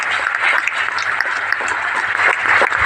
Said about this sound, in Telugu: Great round of applause ఇవ్వచ్చా?